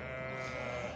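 Karayaka sheep bleat continuously at a busy livestock market, a dense chorus of overlapping calls filling the air close by and loud throughout.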